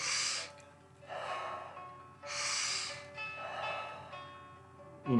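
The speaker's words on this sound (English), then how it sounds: "You want to take the next breath in really quick." Rapid, powerful breaths of the Wim Hof breathing technique: four strong breath cycles in a steady rhythm, each a forceful rush of air, close and fairly quiet with no talk.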